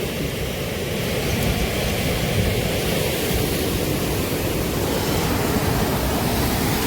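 Rushing river water after fresh rain, a broad, steady roar of flowing current that holds constant and loud throughout with no voices over it.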